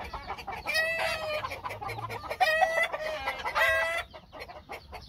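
A fast, strong rooster on a ranch in Valle de Guadalupe crows three times in quick succession, close and loud, each crow a harmonic, wavering call with brief gaps between.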